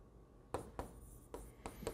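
A pen or marker writing on a board during an accounting lecture: quiet, close strokes in short separate bursts, four or five scratchy marks over a couple of seconds with no talking.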